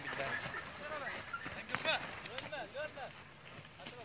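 A horse's hooves clip-clop in an uneven rhythm at a rural Yörük gathering in Selendi, Turkey, with people talking over the hoofbeats throughout.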